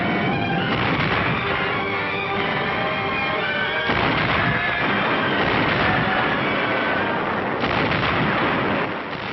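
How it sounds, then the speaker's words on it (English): Sustained thunder of 155mm howitzer artillery fire in a wartime barrage, a dense continuous roar with heavy booms swelling every few seconds and no voices, muffled and band-limited like an old recording. "the Corps artillery had landed its 155mm howitzers"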